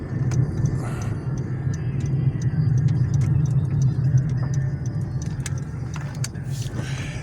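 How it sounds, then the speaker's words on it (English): Steady rumble of a car driving through Oxford, Massachusetts, in winter, with a constant low engine and road drone and faint small rattles and clicks on top, and no talking. "But I will drive back here a little bit."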